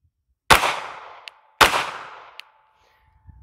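Two loud pistol shots fired at targets during shooting training, about a second apart, each ringing out with a long echoing decay in an open setting.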